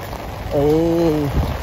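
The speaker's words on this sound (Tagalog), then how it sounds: "Kasi sobrang lakas ng ulan dito." Heavy rain patters steadily on a surface in Green Hills, San Juan, while a voice briefly hums or speaks in a short tonal sound partway through.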